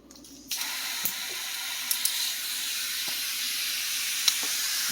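Water sprayer set to mist, hissing steadily onto a freshly dry-poured concrete slab for a laundry room, starting abruptly and continuing as a close, even spray with a few small clicks.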